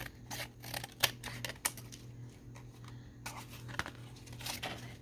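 Scissors snip and paper rustles while a children's collage is trimmed on a board, giving a series of sharp, uneven cuts and crinkles close by, separated by short quiet gaps.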